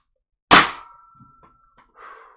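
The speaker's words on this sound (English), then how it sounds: "let's load this up, fire it at the wall" A Worker Caliburn foam dart blaster fires at a wall, one sharp loud spring-powered crack with a brief metallic ringing tail, followed by faint handling noises and a breath.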